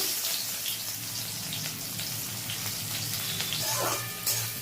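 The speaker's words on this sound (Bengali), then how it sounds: "এবার পেঁয়াজটা দিয়ে দেবো।" Onion tipped into a small amount of hot oil with cumin seeds, with fried potatoes already in the pan, giving a steady close hiss of frying that swells briefly near the end.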